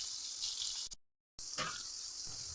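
Dishes being washed under a running kitchen tap, a steady close gush of water that cuts out briefly to silence, then returns with light splashing and clatter, no voices.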